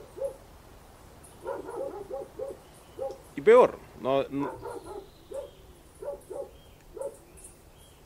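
A dog barks repeatedly in short yapping bursts, steady at first and then louder and more urgent, under someone speaking Spanish.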